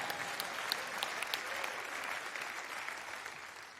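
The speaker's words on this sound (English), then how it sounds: "Y'all can clap for that." An audience at a motivational talk breaks into sustained applause, a faint, distant wash of many hands clapping that holds evenly throughout with a few sharper claps near the start.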